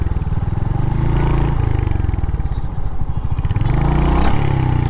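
A Royal Enfield Hunter 350's leg guard buzzes and rattles from vibration as the bike runs on a new road, a rough mid-pitched clatter over the engine's steady drone, close and continuous.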